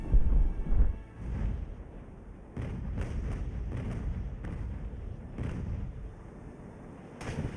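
Ship cannons firing in the naval battle game Ultimate Admiral: Age of Sail, a heavy opening boom followed by a series of dull thumps and cracks at irregular intervals, moderately loud, with no talking.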